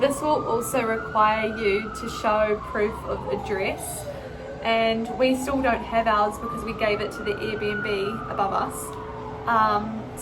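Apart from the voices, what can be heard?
emergency vehicle sirens passing outside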